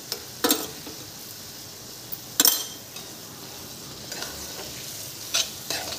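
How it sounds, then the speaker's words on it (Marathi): Tomato masala chutney with a pinch of garam masala being stirred in a pan, a spoon scraping and clinking against the metal in a few sharp strokes over a steady low sizzle of frying oil. "छान मिक्स करू।"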